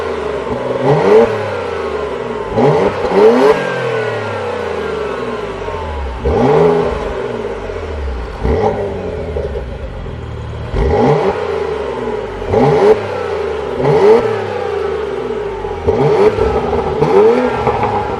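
A Porsche Macan S SUV idles in a car park while its engine is blipped repeatedly. Seven or eight sharp revs rise and fall in a steady rhythm, and each ends with a crackle. The sound is close and loud, with no talking.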